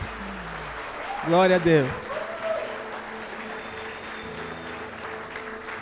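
A church congregation applauds Jesus during a worship service, a brief burst of clapping mixed with voices raised in praise, with speech before and after.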